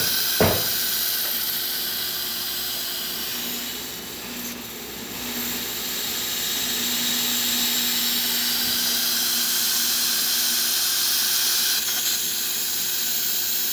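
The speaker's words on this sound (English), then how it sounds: "You can see the steam coming out of the machine." Steam wand of a Breville espresso machine releasing a continuous, steady hiss of steam, loud and close, running the whole time with no voices.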